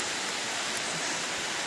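Steady rain pours down outside a roadside hotel, a dense, even hiss with no breaks or individual drops, close and fairly loud for a brief moment.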